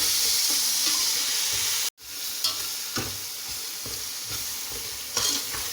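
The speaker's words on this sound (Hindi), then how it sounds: "मैं टमाटर और सब्ज़ मिर्चें डालूँगी।" Tomatoes and green chillies fry for vegetable pulao, a loud, steady crackling sizzle with stirring scrapes. The sound cuts out briefly partway through, then resumes at the same level.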